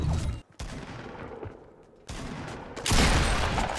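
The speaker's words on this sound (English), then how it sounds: "I did 22 damage with a pump with a headshot" Pump shotgun gunfire erupts in Fortnite gameplay: loud, close blasts and bursts of shots separated by brief gaps, the final stretch a dense barrage of game combat noise.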